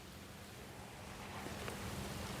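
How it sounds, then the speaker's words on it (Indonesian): Strong wind blows across open rice fields in Perlis, a steady broadband rush buffeting the microphone and growing slightly louder, with no voices. "sekarang anginnya kencang sekali, sangat-sangat kencang ya"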